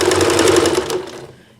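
A sewing machine stitches quilt strips for a simple tied log cabin quilt, a steady rapid mechanical whir with fine pulsing stitches, loud and close, trailing off as the machine stops near the end.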